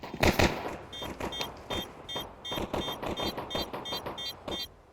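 Rapid gunfire from a shooting video game, a loud opening burst followed by a long string of sharp, evenly spaced shots with ringing metallic tails, played back without talk.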